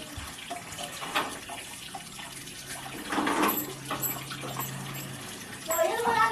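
Water runs from a tap in a residential village setting, a steady broadband rush under casual nearby talk and background voices, with louder bursts midway through.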